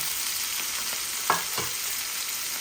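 Pangas fish frying in a pan, a steady soft sizzle held throughout with a couple of brief clinks or stirring scrapes midway; no voices.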